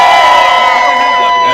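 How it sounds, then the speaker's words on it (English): Loud, close crowd cheering at a sweet sixteen party, a brief sustained burst of shouting and whooping voices filling the room. "Come on, make some noise!"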